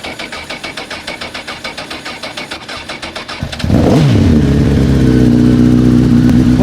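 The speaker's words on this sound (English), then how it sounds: "Let's see if it'll fire up under its own fuel." A 2006 Honda CBR1000RR motorcycle, rebuilt after a wreck, cranks with a rapid rhythmic starter churn for several seconds, then fires up and settles into a loud, steady idle close by.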